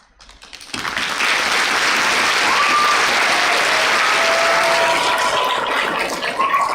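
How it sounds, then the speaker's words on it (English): An audience applauds for honor society inductees at a school ceremony in Wantagh, a loud, sustained crowd clapping that swells in after a second and holds steady. "please hold your applause until each inductee has been called up"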